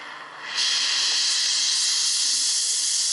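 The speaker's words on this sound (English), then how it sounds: "Now this is fire between 250 degrees." A torch flame melting white gold hisses in a steady, loud roar that swells abruptly after a softer start and then holds constant and close.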